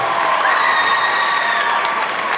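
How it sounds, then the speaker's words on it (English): Audience applause for teachers at a legislative day event, a steady, loud wash of many hands clapping that holds evenly for the whole stretch, with faint cheering mixed in. "let's give all our teachers a round of applause"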